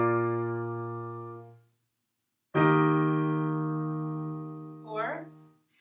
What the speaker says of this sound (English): I'll play it for you real quick on the piano.